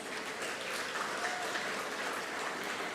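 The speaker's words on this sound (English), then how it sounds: "loud noise of applause." A large audience at a college graduation ceremony applauds the teachers, a dense, steady wash of clapping that holds at an even level for the whole stretch.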